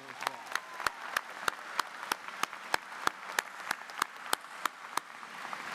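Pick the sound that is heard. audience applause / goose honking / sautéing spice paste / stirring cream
audience applause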